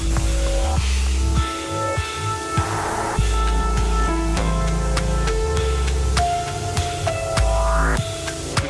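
Water sprays across a car to build a layer of ice around the door handles, a steady hissing spray beneath ringing music, with no talking.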